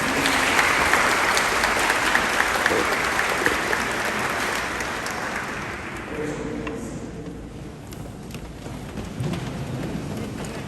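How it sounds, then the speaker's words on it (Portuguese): A church congregation applauds confirmation candidates at a Confirmation Mass. The clapping is loud and steady at first, then softens and thins out toward the end. "Eu quero convidar toda a comunidade a acolher esses nossos crismandos de hoje, numa salva de palmas"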